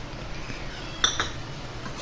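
Lemon juice stirred into a chicken pickle: one bright metallic clink from a spoon against the vessel, followed by a softer tap, over a low room background.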